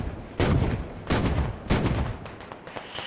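An NLAW missile strikes a BMP in a Squad battle in the Afghan mountains, with three heavy booming impacts about half a second apart, each followed by a rumbling decay, set against a steady background of battle noise.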